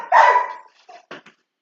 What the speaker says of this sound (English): Just frustration barking.